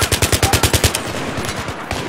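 A fast automatic weapon fires in Battlefield 3, loud and close, in a rapid even burst of about eight rounds. Fainter shots follow, then the noise tails off into a rushing din.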